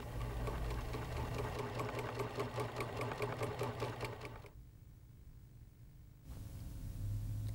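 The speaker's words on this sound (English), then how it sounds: "Test sew on fabric scraps to get the proper results." A Pfaff 2014, 2022 or 2024 sewing machine test-stitching on fabric scraps, heard up close as a rapid, even mechanical chatter. The stitching stops for about two seconds, then resumes.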